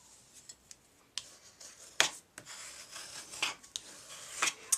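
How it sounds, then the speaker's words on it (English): Card stock for an S-shaped Christmas card folded back by hand, giving scattered soft rubs, creases and sharp crackles with short quiet gaps between them, close and fairly faint, with no voice. "you just fold your top card, your top piece of your card, you just fold it back."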